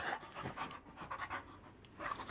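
A dog pants rapidly and close while playing, with a steady rhythm of quick breathy puffs and no talk over it.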